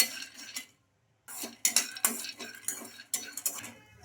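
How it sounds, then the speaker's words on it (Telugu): Peanuts are roasted in a kadai, with irregular bursts of metallic scraping and clinking as a spoon stirs them, after a brief silent pause; the sounds are close and moderately loud, with no talking. "ఇంకా అర కప్పు పల్లీలు కూడా ఇదే కళాయిలో వేసుకొని వేయించుకోవాలి"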